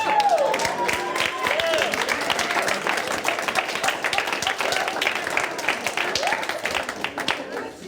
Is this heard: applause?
yes